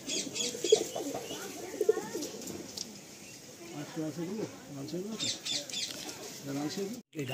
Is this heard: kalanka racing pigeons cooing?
yes